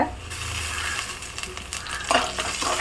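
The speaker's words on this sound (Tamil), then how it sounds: "கொஞ்சம் கருவேப்பிலை போட்டுக்கலாங்க" Curry leaves dropped into hot oil for a meat curry, sizzling and popping loudly up close while a spoon stirs and scrapes the pan, with a burst of crackling toward the end.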